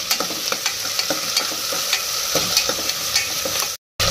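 Ginger garlic paste sizzles as it is fried and stirred in a pan, with a steady hiss broken by repeated scraping strokes of the spoon, close and loud, cutting out briefly near the end.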